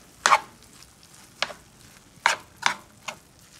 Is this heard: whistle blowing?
no